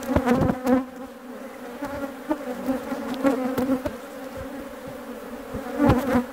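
An aggressive honeybee colony, opened up for a walk-away split, drones with a loud, steady close-up buzz, with individual bees zipping past the microphone.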